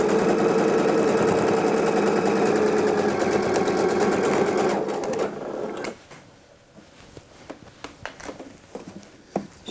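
A sewing machine runs steadily through thick wool coat fabric at the neckline, a loud continuous whir for about five seconds, then stops, leaving soft clicks and handling noises.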